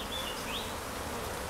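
Dense, continuous buzzing of many honey bees swarming close around a top bar nucleus hive, spilling out at the sides, with occasional individual bees whining past.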